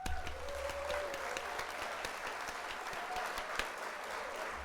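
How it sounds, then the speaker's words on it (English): A canned applause sound effect on a livestream: steady, moderately faint clapping and cheering lasting several seconds, with a faint tone and brief voice fragments underneath. "We're gonna hit the old applause there."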